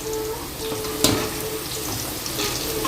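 Potato french fries sizzle and bubble in hot oil during their second frying, a loud, steady crackling hiss up close with a brief clatter in the middle and no talking.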